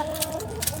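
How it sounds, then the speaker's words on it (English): Backyard hens cluck in a short burst close by, a few quick soft clucks with a faint higher squawk, heard alone without talking. "Here you go, chickies."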